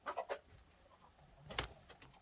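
A broody Brahma hen gives low, soft clucks in a short burst, then another single cluck after a pause, faint and close against quiet background hiss.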